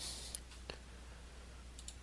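A few faint, sharp computer mouse clicks, spaced apart, then two in quick succession, against a quiet background hum.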